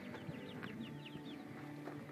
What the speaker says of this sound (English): Get a baby chickie. Catch one.